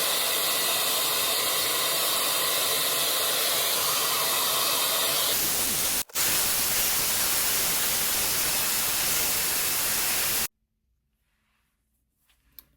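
A hair blow dryer runs during a home hair-rebonding session, giving a loud, steady, close hiss with a brief dropout near the middle before cutting off and leaving near silence.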